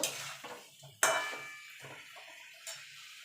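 Boiled elephant foot yam and potato are stir-fried in a pan, with a spatula scraping and knocking the metal in uneven strokes over a soft sizzle, close up and without speech.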